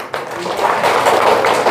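Villagers clap together at a charity rice handout in a Vietnamese home village, a dense, steady patter of many hands that runs loud and continuous throughout.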